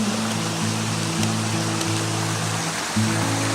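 A small stream crossed on a cycling tour in Colombia runs in a steady broadband wash. It sits close by at an even level and has a constant low drone layered underneath.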